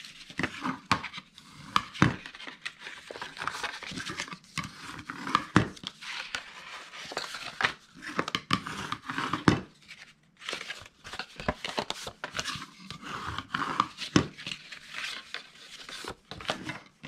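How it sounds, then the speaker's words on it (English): Scored paper being folded and burnished into a gift box, giving repeated dry crinkles, scrapes and crisp creasing taps at close range, irregular and busy throughout with no talk. "we're simply going to fold and burnish all of our scores"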